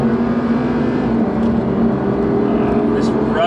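An Audi R8 V10 Performance supercar with 620 PS cruises along a winding road, its engine a steady, loud drone heard from inside the cabin with no break.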